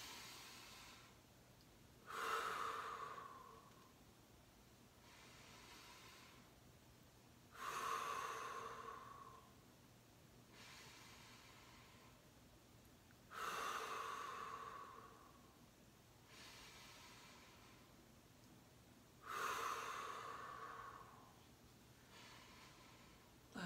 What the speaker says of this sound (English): Active breathing in through the nose, out through the mouth.